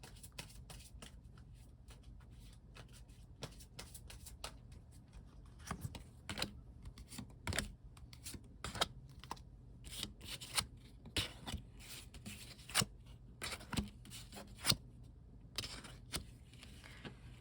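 Tarot cards are shuffled and drawn close up with quiet riffling, flicking snaps and soft slaps of cards on a surface in an uneven series of sharp bursts.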